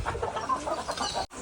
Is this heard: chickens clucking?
yes